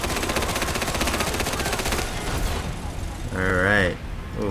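Rapid automatic fire from a Gatling gun in GTA V, a dense, continuous rattling burst that runs loud for about two seconds, then gives way to game effects and a rising whine; no talk.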